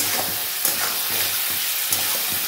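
Chicken and mushroom pieces fry with spices in a pan, giving a steady close sizzle with periodic scraping stir strokes at a regular rhythm and no voices.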